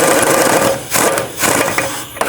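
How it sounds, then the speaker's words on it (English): A wrench works on the rear shock absorber bolts of a 2010-16 Buick LaCrosse, giving quick, close ratcheting and grinding bursts in a steady rhythm with a few brief pauses. "Now I'm going to snug both this lower one down and then also the upper two"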